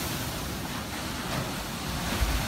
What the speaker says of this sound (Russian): Посмотрите, какие волны.